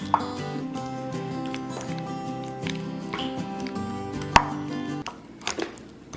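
Boiled eggs being mashed for deviled eggs, giving a steady run of soft, squishy chopping taps close by over continuous background music, ending in a few sharper clicks.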